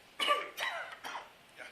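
Several harsh allergy coughs from pollen irritation, three close bursts followed by a fainter fourth, near and alone with no speech.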